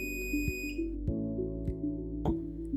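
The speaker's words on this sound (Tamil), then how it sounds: "ப்ரோப் ரெண்டையும் ஒன்றா வச்சா பஸர் அடிக்கும்." A multimeter set to continuity mode gives short buzzer beeps each time its two probes touch together, several brief tones spaced through a quiet stretch with no talking.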